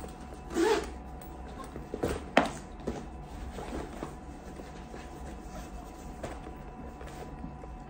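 A zipper pulled on the back pocket of a Converse Navigate messenger bag, heard as a few short, fairly close scraping runs with small bursts of handling noise, rather quiet, with no talk over it.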